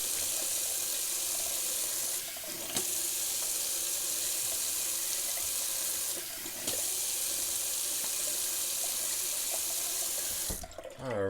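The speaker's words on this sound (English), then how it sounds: "we're going to just do a little cold water rinse" A bathroom tap runs steadily at room temperature for a rinse during a wet shave, a close, even rush of water with a couple of brief splashy changes and a bump near the end.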